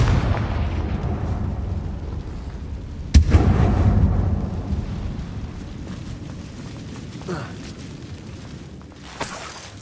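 Confringo explosive spell cast in Hogwarts Legacy: one sudden loud blast with a booming burst that rumbles and slowly fades, followed by quieter debris and ambience.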